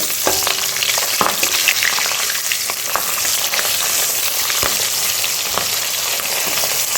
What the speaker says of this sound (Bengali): মাছের মুড়োগুলো আমাদের ভালো করে ভাজা হয়ে গেছে একটু ঠিক করে